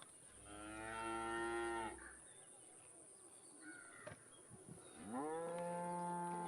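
A cow named Gauri moos twice, in long, loud, drawn-out calls separated by a few seconds of quieter background with faint insect buzz; no one speaks over them.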